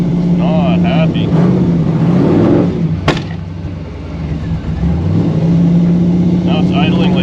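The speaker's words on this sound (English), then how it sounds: "Now it's idling like crazy on its own." A 1955 Chevy Nomad gasser engine idles too fast on its own with a steady low drone and a brief sharp knock midway, its pitch dipping and recovering, with voices faintly present.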